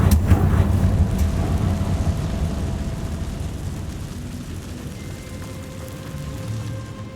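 A Confringo blasting spell explodes in Hogwarts Legacy with a loud, booming burst that rolls into a long, rumbling roar and slowly fades over several seconds.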